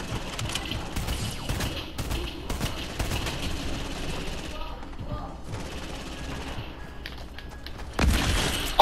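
Fortnite gunfire crackles through a busy match, with repeated sharp shots and bursts spread across the clip and a heavier thump near the end, mixed with other game sounds.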